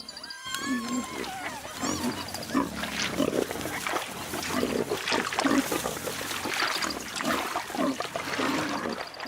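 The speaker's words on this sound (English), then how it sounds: "wild pigs, descendants from those early porkers, are rampaging through some of Australia's most pristine landscapes." Wild pigs grunting and squealing close by in an Australian wetland, a busy overlapping jumble of snorts and squeals with splashing water underneath.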